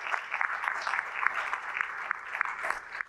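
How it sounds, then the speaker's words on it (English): An audience claps steadily for a few seconds, a dense patter of many hands at moderate volume with no talking over it. "if I could have a round of applause for all of our earlier presenters"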